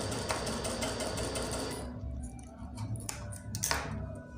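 A tailoring-class sewing machine runs a steady burst of stitching through fabric, then slows into a few separate short runs and clicks, close and fairly quiet.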